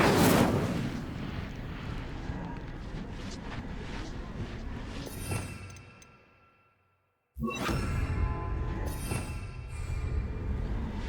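An Incendio fire spell in Hogwarts Legacy roars out in loud, rushing whooshes of flame. The sound tapers to a short silence, then a fresh burst of fire returns strongly.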